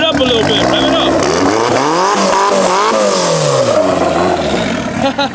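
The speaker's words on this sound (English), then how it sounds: "rev it up a little bit" Car engine revving hard at a large cars-and-coffee meet, loud and close, rising and falling through several throttle blips over a roaring exhaust, with voices talking underneath.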